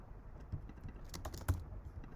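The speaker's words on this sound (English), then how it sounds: "And you can use your arrow keys to inch things up." Soft, uneven taps on a Mac computer keyboard's arrow keys, a handful of quiet clicks at irregular intervals against faint room hiss.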